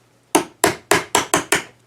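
A hammer drives a tapered peg out of a drilling machine under repair: six sharp metallic blows, near and loud, coming at an uneven rhythm over about two seconds, with no talk.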